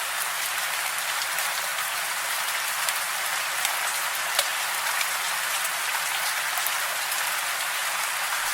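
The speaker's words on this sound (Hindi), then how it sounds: "बारिश सूखने का नाम ही नहीं ले रही है।" Heavy rain pours down in a constant, even hiss of drops striking surfaces, with no voices.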